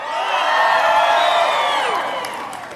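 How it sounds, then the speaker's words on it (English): A large crowd at a New York City ceremony honoring public school valedictorians cheers and whoops loudly, a sustained roar of shouts that swells and then gradually tapers off. "Do we have a happy crowd here tonight?"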